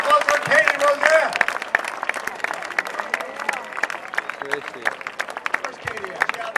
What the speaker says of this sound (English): How about a big round of applause for Katie Roseanne?